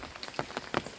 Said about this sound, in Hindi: बारिश हो रहा है साइक्लोन की वजह से